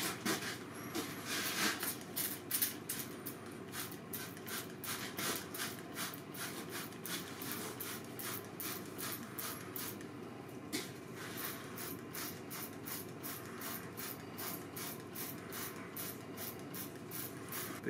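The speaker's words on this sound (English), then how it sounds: "ferric chloride is pretty toxic. I'm pretty sure under no circumstances you should aerosol it." Ferric chloride etchant is sprayed from an aerosol can onto a sword build piece, a steady hiss broken by a long series of quick rhythmic pulses, close and continuous throughout.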